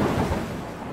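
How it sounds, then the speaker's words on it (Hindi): Thunder from dark storm clouds over the deep sea, a heavy, close rumble that rolls on steadily for a moment alongside a rain-like hiss, with no talking. "काले बादल हर तरफ गरज रहे थे।"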